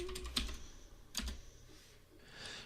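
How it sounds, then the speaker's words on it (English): Password typed on a computer keyboard during an Android Studio install on Linux: a few scattered, moderately quiet keystroke clicks with short pauses between them, and no talking. "I need to just type in my password."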